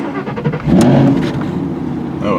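A Shelby GT500 engine revs up mid-clip, a loud surging growl rising over a steady running idle, close by and with no talk.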